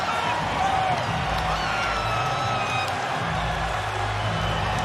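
A packed arena crowd at a Cage Warriors MMA event in Belfast roars and cheers continuously, loud and sustained, with a commentator's voice over it.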